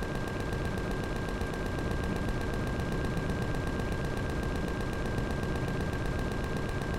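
Sustained rapid gatling gun fire aimed at a turret in the Empyrion Galactic Survival video game, a dense unbroken mechanical rattle that stays loud and steady throughout.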